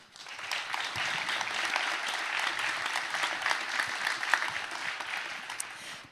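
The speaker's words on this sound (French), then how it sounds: "Vous applaudissez d'abord." Audience in a conference hall applauds steadily after a talk on data and AI in medicine, a dense, even clapping that holds at the same level throughout with no voices over it.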